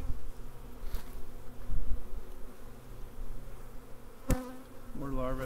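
Honey bees buzz in a steady, close drone around a hive frame crowded with thousands of bees, with a few brief clicks and handling noises breaking through.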